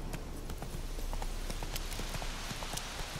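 Roach the horse gallops in The Witcher 3, hooves striking in a quick, steady clip-clop rhythm over a constant rushing background, fairly faint and alone with no voices.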